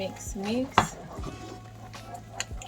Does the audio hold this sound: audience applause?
no